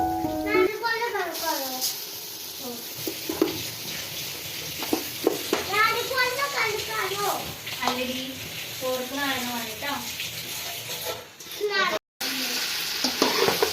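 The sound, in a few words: masala chicken frying and being stirred in a pan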